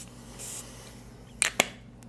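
A soft hiss, then two quick, sharp spritzes from a perfume atomizer close up, each a brief burst of mist in an otherwise quiet room.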